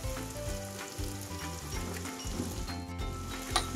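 Steady sizzling and crackling of tomato frying in a pan, with a few low scraping taps, continuous and fairly close.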